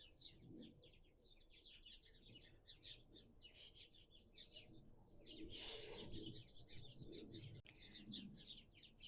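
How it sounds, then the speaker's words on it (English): Small birds chirp and tweet almost nonstop in a garden waking up at the end of March, bright and fairly close, with a few soft coos and a brief flutter mixed into the steady song. "sorry the birds"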